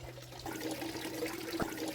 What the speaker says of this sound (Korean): 지리산에서 내려오는 오염되지 않은 깨끗한 물입니다.